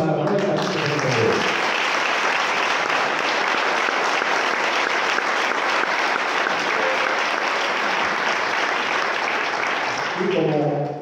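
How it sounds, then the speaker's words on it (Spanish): An audience applauds Manuel, a musician praised for his instrument work, at a choir concert by Alalumbre and the Villarmentero and Villafuerte groups in Gatón de Campos; dense, steady clapping runs almost the whole time, with a voice speaking briefly at the start and end. "así que un aplauso para Manuel."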